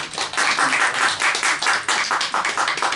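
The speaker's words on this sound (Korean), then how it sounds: "박수 한번 쳐드리세요." A church congregation at a New Year's Eve service claps together in a steady, rhythmic patter of many hands, close and consistent for the whole stretch.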